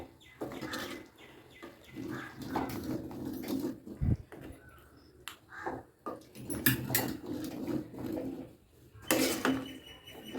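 Empty kurma gets stirred in a cooking pot with a spoon, giving irregular scrapes and metallic clinks against the vessel, close by, with quiet gaps between bursts and one heavier knock partway through.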